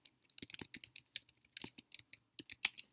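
Typing on a computer keyboard: a quick, irregular run of light clicking keystrokes, close and fairly quiet, with short pauses between bursts.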